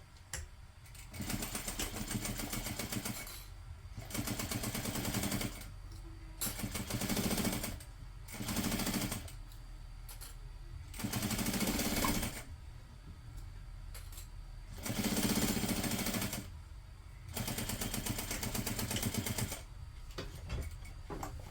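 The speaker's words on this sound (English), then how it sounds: "I'm going to sew together using a 1/2 inch seam allowance again" A sewing machine stitches a tote bag seam at a 1/2 inch allowance, running in repeated bursts of steady mechanical whirring with brief pauses between them.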